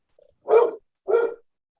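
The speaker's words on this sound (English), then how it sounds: "Bear the Wonder Dog is here too" Dog at a board meeting giving two short, close barks about half a second apart, preceded by a faint soft whimper.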